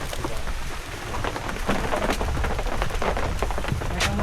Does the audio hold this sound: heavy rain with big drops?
yes